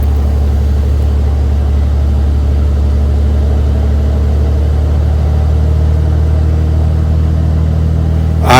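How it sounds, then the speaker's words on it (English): A small aircraft's engine runs steadily with a deep, loud droning rumble and rises slightly in pitch as the RPM is pushed up toward about 1500 to 1600, continuous throughout with no talk. "I increased the RPM of the engine"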